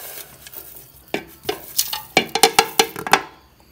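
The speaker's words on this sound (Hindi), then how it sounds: "अभी इसको हम मिक्स कर लेते हैं" A spoon stirs chicken in a pot with salt and ground whole garam masala, scraping softly at first, then clacking against the metal in a quick run of sharp knocks near the end.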